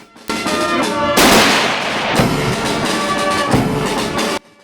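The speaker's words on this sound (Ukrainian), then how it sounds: "Бійцям віддали шану пострілами, поховали військових на алеї слави Баранівського кладовища." Gunshot salute fired at a soldiers' funeral at a cemetery in Sumy, loud volleys of shots whose blasts ring out and echo across the open ground over several seconds.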